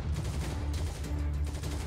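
Dense rolling gunfire in the video game Heroes and Generals crackles in rapid overlapping bursts, loud and sustained across the whole moment without pause.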